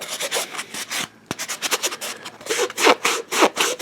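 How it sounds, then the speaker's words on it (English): Steady back-and-forth rasping strokes of a flexible sanding sponge on an Indiana Jones prop, close and fairly loud, with a brief pause before the rhythmic rubbing resumes. "I can push it in and sand."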